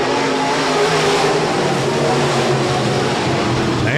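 USRA B-Modified race cars roar around Rapid Speedway in a dense, continuous wash of engine noise, loud and steady throughout with no clear gaps between passes.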